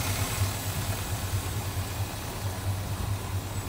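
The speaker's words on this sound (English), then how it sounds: "Take you around back so you can kind of hear the pipes." A 1957 Chevrolet Bel Air with a 350 V8 idles steadily nearby, a low, even rumble with a faint pulsing lope and broad exhaust hiss throughout, no talking.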